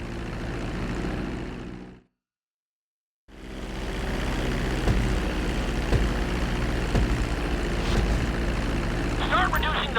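A propeller airplane approaches a runway for landing in GTA V, its engine droning steadily and close, cutting out briefly to silence before resuming under an instructor's voice.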